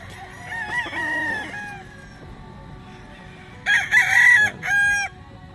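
A yellow-legged hatch gamefowl stag crowing at a game farm: two loud, close crows, the first drawn out and the second more strident, separated by a short pause over faint background noise.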